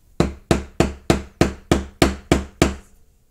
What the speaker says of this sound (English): And then just hammer it flat.